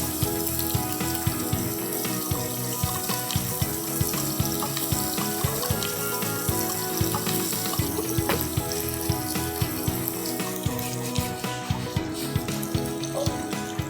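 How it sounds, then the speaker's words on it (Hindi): Ginger garlic paste sizzles and spits in hot oil in a pan, a dense continuous frying hiss with small crackles, steady and close, without speech. "अब गया जिंजर गार्लिक पेस्ट ऑयल में, बाकी सारी चीज़ें हम बस डाल देते हल्का सा हैं। इसको सौते करेंगे"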